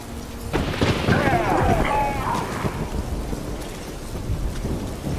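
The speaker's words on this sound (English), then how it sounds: "A magic explosion of some sort. So powerful that even the echo was dangerous." A powerful magic explosion in The Witcher 3 video game booms and rumbles, a heavy blast with a long echoing, crackling tail that fades over several seconds.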